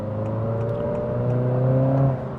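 A 2025 Honda Civic Si turbo four-cylinder surges to pass, its engine drone rising steadily in pitch for a couple of seconds, heard up close from inside the car with no talking.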